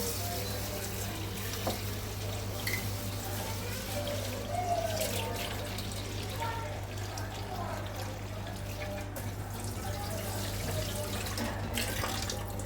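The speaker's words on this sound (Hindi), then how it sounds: "इस तरह मल के इस तरह धो लूँगी इसको।" Chicken for pulao is rubbed clean under a steadily running kitchen tap, constant close rush of water with faint splashes and handling noises throughout.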